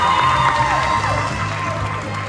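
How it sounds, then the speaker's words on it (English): Crowd cheering and whooping at a bodybuilding competition final, a steady roar of voices lasting the whole moment, loud and close with some clapping underneath. "ladies and gentlemen, a huge round of applause for another fantastic class"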